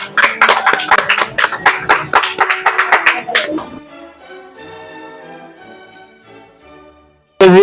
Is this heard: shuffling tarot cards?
no